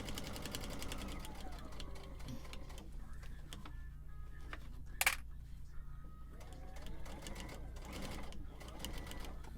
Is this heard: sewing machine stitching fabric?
yes